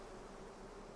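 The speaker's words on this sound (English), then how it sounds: "I hear bees, but I don't see bees." Steady buzzing of bees in a video game, a continuous insect-like drone heard alone at a low, even level throughout.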